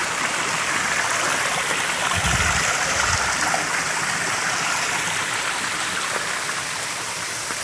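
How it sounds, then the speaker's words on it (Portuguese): A mountain stream of clear water runs near a waterfall, a steady broad rushing close by that continues without pause, with no voices. "Outro riacho que vem lá em cima da serra."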